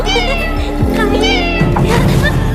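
A house cat meows loudly and close by in a few drawn-out, wavering calls, with a brief voice and some background noise in between.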